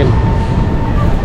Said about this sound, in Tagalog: Ayan na, parating na yung MRT